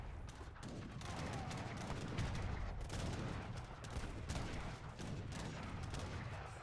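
Culverin cannon shots boom in a one-on-one real-time strategy tournament match, landing as a dense run of sharp blasts and crackling impacts throughout the battle.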